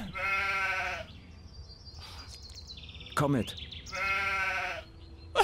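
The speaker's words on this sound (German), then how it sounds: "Toll, jetzt wird uns so ein geiles Schaf hinterherlaufen" Sheep bleats in the video game Gothic II, two drawn-out harmonic bleats at start and near the end, with a short spoken phrase and other game sounds between them.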